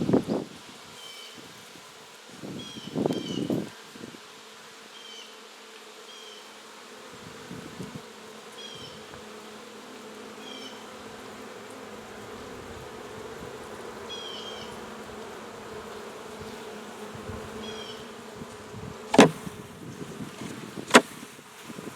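Honeybees buzz around a hive in a steady, close drone of many insects, with a few brief louder knocks and thumps near the start and end.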